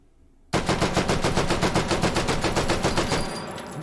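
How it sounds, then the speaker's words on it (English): Full-auto fire from a Madsen LAR rifle in the H3VR video game: a sustained, evenly spaced stream of loud, close shots at a fairly slow cyclic rate, lasting about three seconds. "I'm just going to try it full auto and see if I can control it with that low rate of fire"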